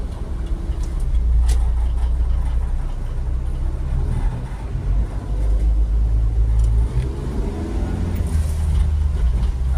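A microbus drives along a road in Saudi Arabia, its engine giving a steady low drone and rumble of tyres on tarmac throughout, with passing traffic swelling at moments and a faint voice or two in the background.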